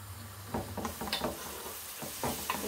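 Onions sizzling and frying in a pan for a Bangladeshi home-style fish recipe, with a steady crackle and several stirring scrapes and knocks of the spoon against the pan, close and moderately loud.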